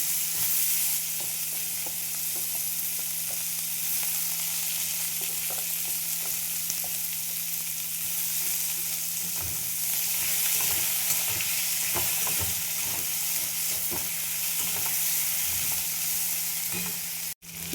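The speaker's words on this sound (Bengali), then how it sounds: "আলু আর পেঁয়াজ একসাথে ভেজে নেব।" Thinly sliced potato and onion frying together in hot oil with black cumin, a constant sizzle with scattered spoon scrapes and stirs, steady and close throughout.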